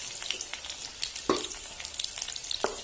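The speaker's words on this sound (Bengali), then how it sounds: "আমার পেঁয়াজ ভাজা ভাজা হয়ে গেছে" Onion and garlic frying in a karai as a tempering for Barishal-style khesari dal, a soft low sizzle broken by a few sharper spits and pops.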